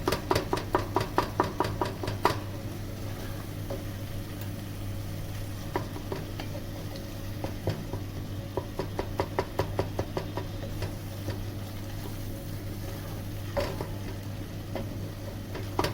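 Tomatoes and spices cook in oil over medium heat for achari chicken, giving a low continuous sizzle broken by bursts of rapid spoon stirring and knocks against the pot, close and alone.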